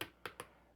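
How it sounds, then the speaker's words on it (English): Stiff ratcheting shoulder joints on a Takara MP-29 Shockwave Masterpiece figure click three times in quick succession, crisp and close but faint. "you could just hear the amount of ratchets"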